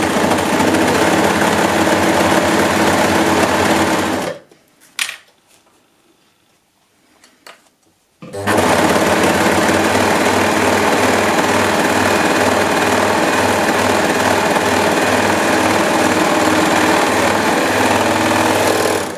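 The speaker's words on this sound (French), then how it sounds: "donc elle le fait à la surjeteuse." Overlock serger stitching the shoulder seams of a knit cardigan, a loud fast steady mechanical whirr that stops for a few seconds midway and then resumes.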